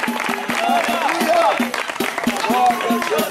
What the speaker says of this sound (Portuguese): Uma salva de palmas aí, aleluia!